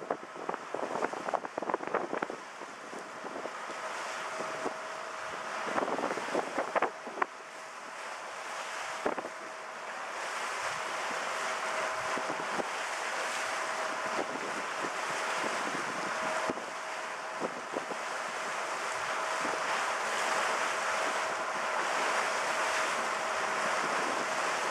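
Sea waves wash against an island shore, a broad steady rush of surf mixed with strong wind buffeting the microphone, heavier gusts early on and then a constant roar.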